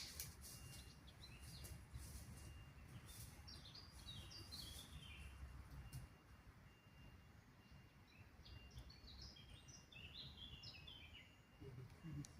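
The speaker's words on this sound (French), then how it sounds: "On entend les oiseaux." Birds singing outdoors, bright chirps and trills scattered throughout over steady background noise, moderately distant.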